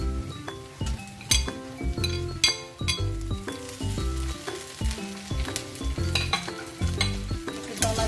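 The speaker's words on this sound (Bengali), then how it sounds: "টমেটোটা দিয়ে ভেজে নিই।" Tomato fries with onions in a pan, sizzling steadily under repeated clinks and scrapes of a spatula stirring, close and continuous.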